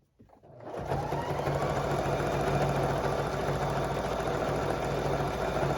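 Quilting cotton for a jellyroll rug runs through a sewing machine in one long, steady, fast whirring stitch run that starts abruptly and stays loud and close throughout.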